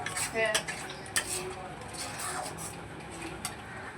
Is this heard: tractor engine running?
no